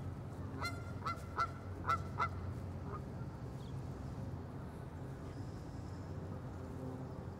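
Several geese honk in a quick series of loud calls while eating grass in Jersey City, then the scene settles into quiet outdoor background noise with a few faint, distant honks.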